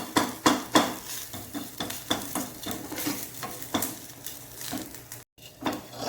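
Onion and drumstick leaves frying in a pan, with steady close sizzling broken by repeated scraping stirs of a utensil against the metal.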